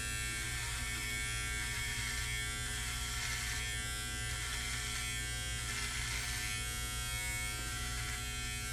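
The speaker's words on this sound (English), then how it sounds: "just shaping it and just trimming off anything I don't like" Electric beard trimmer buzzing close to the microphone while shaping and trimming a beard, a steady, unbroken motor drone with slight changes as it moves over the hair.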